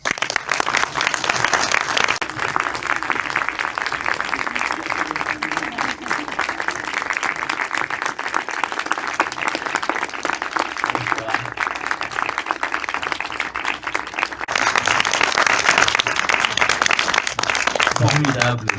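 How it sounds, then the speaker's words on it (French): An audience at a film screening breaks into loud, sustained applause for the director, thick continuous clapping that stays strong throughout and swells toward the end, with voices faintly audible beneath. "demande d'applaudir très très fort Monsieur Volker Schlondorf."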